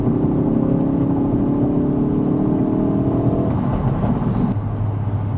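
A Hendy HP500 Ford Focus RS, a tuned 520bhp car, accelerates hard in fourth gear: a loud, steady engine drone rises in pitch for several seconds, then changes tone as revs settle near the end. The recording is close to the engine.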